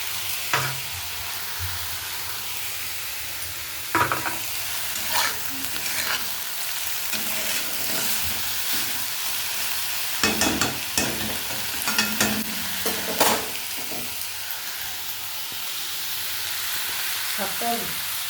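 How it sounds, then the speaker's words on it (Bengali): Fenugreek greens fry in a pan with potato and eggplant in a village kitchen, giving a steady, close sizzle broken by scraping stirs and clinks of the spatula, with no talk. "আলু বেগুনের সঙ্গে শাকটা ভেজে নিয়েছি।"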